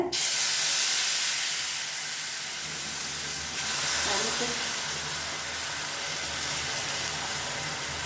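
Boiling water poured onto roasted semolina makes a broad, steady hiss and sizzle that carries on for several seconds at moderate loudness.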